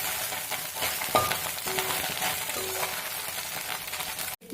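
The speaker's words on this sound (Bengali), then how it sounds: "মাছগুলো মচমচা করে ভাজা হয়ে গেছে" Small boroli fish fry crisp in hot oil, giving a loud, continuous dense sizzle with a few brief clinks and stirring sounds.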